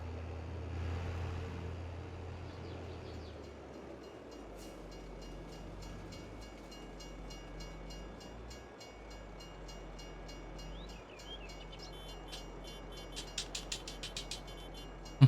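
A train rolls past near a rural Indiana farm field during silage baling, a steady low rumble and rolling rattle of rail cars filling the whole stretch, with faint clanks and a few sharp clicks toward the end.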